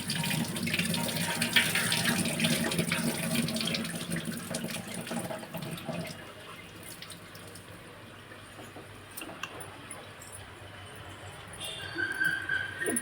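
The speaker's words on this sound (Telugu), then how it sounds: "వాటర్ అంతా వంచేస్తున్నానండి రైస్ వేసేయడానికి." Water is poured off a pot of rice for chicken biryani, a loud gushing splash for about six seconds that then drops to quieter trickles and small kitchen clinks.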